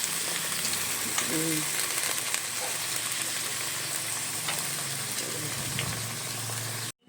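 Onions frying and spattering in hot oil in a wok make a loud, dense, continuous sizzle close by, with occasional soft stirring noises. The sound cuts off abruptly at the end.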